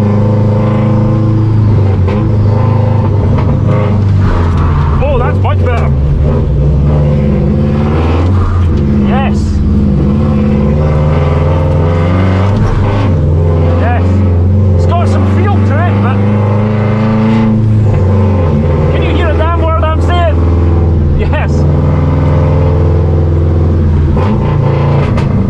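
A Subaru drifting, with its handbrake being tested: a loud, close engine note rising and falling with revs throughout, interior-style, while someone speaks over it.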